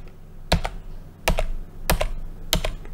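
Computer keyboard keys pressed to scroll through photos stored in Amazon Drive: four crisp, close key clicks spaced evenly about two-thirds of a second apart over a low steady hum.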